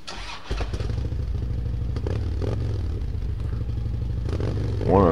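A Harley-Davidson Street Glide motorcycle engine cranks and fires up after a brief pause, settling into a loud, close, lumpy idle with a slight rev near the end.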